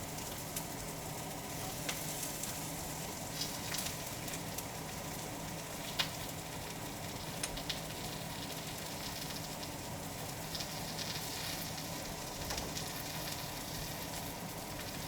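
Steady sizzle of ingredients sautéing in a pan for omurice, a continuous crackling hiss with small pops, close and moderately loud, with no talking.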